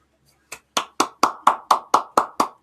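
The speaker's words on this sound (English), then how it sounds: "got to give a big round of applause" Crisp, evenly spaced clapping at a show's induction celebration, about ten sharp claps in a steady quick rhythm, close and loud with no other voices over it.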